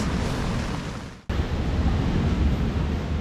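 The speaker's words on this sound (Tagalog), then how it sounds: "sobrang lakas ng hangin dito ngayon" Strong sea wind at a beach resort in Lobo, Batangas, Philippines, roars across the microphone in a steady, noisy rush with surf-like texture, briefly cutting out for a moment before resuming.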